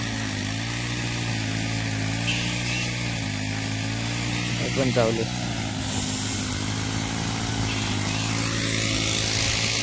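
Petrol brush cutter clearing undergrowth in a cashew orchard, a steady droning engine running throughout with a slight rise midway, heard under continuous nearby talk.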